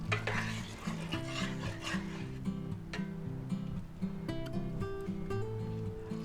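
Spaghetti Alfredo with spinach and garlic butter mushrooms being mixed in a pan: soft rubbing and scraping stir strokes with a faint sizzle, close by and partly masked by background music.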